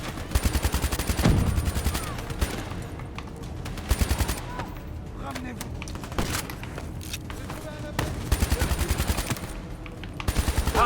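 Rapid automatic gunfire from the Call of Duty Black Ops 3 campaign rattles in repeated bursts, loud and close, with brief gaps between volleys and other game sounds in the mix.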